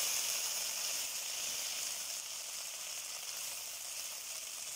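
Curry leaves fry in hot oil for papaya thoran, giving a continuous close sizzle and hiss that holds steady and fades slightly over several seconds, with no voices.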